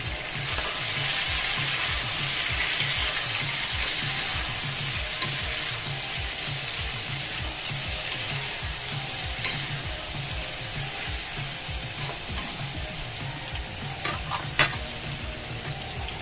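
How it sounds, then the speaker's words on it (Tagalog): A pot of chicken tinola made with chicken feet is stirred, giving a soft continuous sizzle under regular rhythmic scraping of a spoon, close and even. "Siyempre, halu-haluin po muna natin siya."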